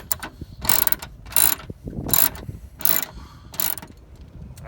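A hand ratchet snugs the fog light mounting bolt on a 2005 Toyota Tacoma in quick, close clicking bursts, five or six strokes with brief pauses between them.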